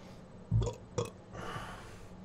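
Two short, close burps come in quick succession, the first deeper and louder, followed by a faint exhale, with no talking.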